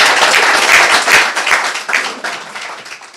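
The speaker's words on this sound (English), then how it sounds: "First of all, round of applause." Audience applause after a talk at a tech industry event: a dense, steady burst of many hands clapping up close, easing off slightly toward the end.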